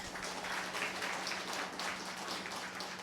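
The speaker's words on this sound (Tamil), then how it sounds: "கைத்தட்டல் பத்தலை." An audience claps together at a public speech, a steady wash of applause holding at an even level for about three seconds with no voice over it.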